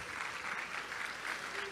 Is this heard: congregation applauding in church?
yes